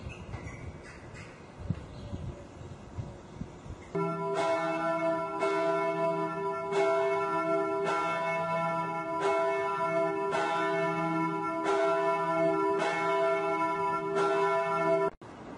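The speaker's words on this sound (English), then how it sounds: "The bells in the tower are still working." Church bells ringing in the 35-metre bell tower beside the basilica in Chełm, Poland, steady rhythmic loud strikes with a rich sustained hum that continue for about eleven seconds and then stop abruptly.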